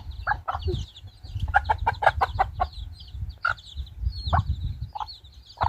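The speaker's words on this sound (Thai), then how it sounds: "ไก่วินเนอร์เด้อ" Chickens cluck repeatedly, with rapid bursts of clucking and a few louder calls close by, over a low rumbling background on a farm.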